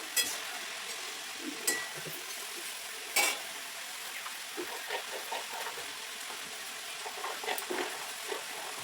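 Pui shak greens frying in a pan and being stirred, a soft steady sizzle broken by scraping strokes and a few sharp clinks of the utensil against the pan, close and fairly quiet, with no talking.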